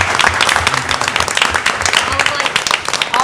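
Audience applause for a communications team at a meeting, loud, dense clapping with scattered cheers and voices throughout.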